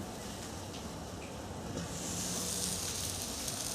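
Burgers sizzle under the closed lid of a barbecue grill as a soft, steady hiss that grows a little louder halfway through, with no one talking.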